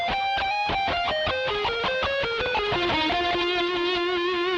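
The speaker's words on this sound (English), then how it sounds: "I'm going to kick on the distortion pedal" Electric guitar notes played through a distortion pedal, heavily saturated with thick sustained harmonics, a descending run of notes stepping down in pitch and ringing on, loud and close with no talking.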